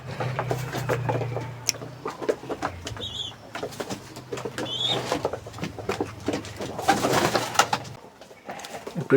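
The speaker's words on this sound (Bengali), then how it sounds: "এই কবুতরটি ঘরে যাওয়ার চেষ্টা করতেছে, কারণ আমার ভিতরে এখানে" Pigeons coo in a low, steady rumbling drone near their nest box with eggs, a continuous murmur lasting most of the time, with scattered rustles, taps and faint higher bird chirps around it.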